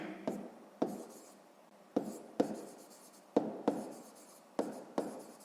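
Pen strokes scratch across a notebook page while a sixth-grade math exercise is worked out: short, close scratchy bursts, often in quick pairs, separated by brief pauses in a quiet room.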